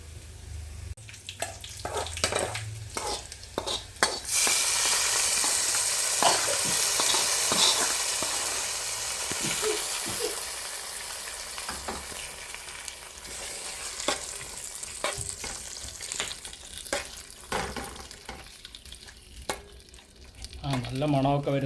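Mustard seeds, dried chilli and curry leaves sizzle and crackle in hot oil as a tempering for Angamaly-style mango curry, a loud frying hiss with scattered pops and stirring clatter, ending with a few kitchen knocks.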